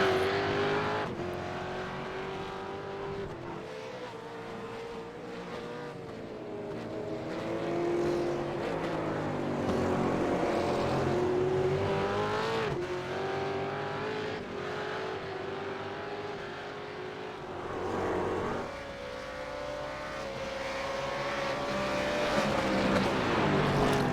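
V8 race cars lap Oran Park in a Trans-Tasman V8 series race, a loud continuous engine drone rising and falling through gear changes as cars pass, with no voices.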